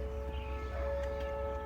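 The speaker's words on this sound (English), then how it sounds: "Newark Sirens." Whelen Vortex R4 outdoor tornado warning sirens sound in Newark, Ohio, during a statewide tornado drill: a steady, sustained wail rising and holding, heard from a distance over low outdoor rumble, with no talking.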